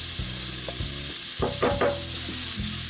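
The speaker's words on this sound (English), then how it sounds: "just go ahead and start browning it off" Ground sausage browning in a pan for biscuits and gravy, a steady loud sizzle and frying hiss up close, with occasional scraping stirs and no talking.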